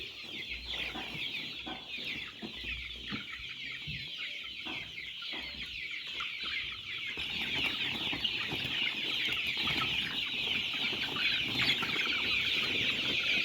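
Flock of chickens clucking and calling steadily at a farm during feeding time, a dense continuous chatter that grows louder and busier in the second half, with occasional soft flapping.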